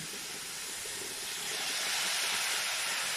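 Water poured into a hot pan of cooking squash sets off a loud, continuous steam hiss that grows stronger and fills the sound, with no talking.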